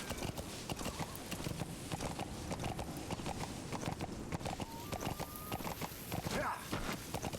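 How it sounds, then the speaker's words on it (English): Horse hooves clip-clop at a steady walking pace in Metal Gear Solid V: The Phantom Pain, a close, even rhythm of hollow knocks over a constant background bed, with a brief whinny-like tone near the end. "I like the sound of horse hooves."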